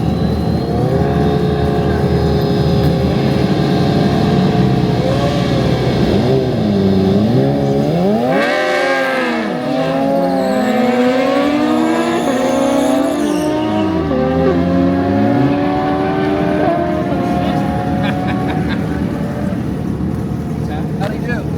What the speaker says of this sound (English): Ryan's getting ready to do his burnout once they're done making their pass.